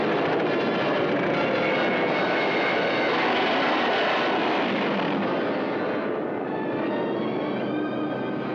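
A World War II fighter plane engine drones in flight during the 1951 Guadalcanal war film, a loud, unbroken roar that holds steady for several seconds.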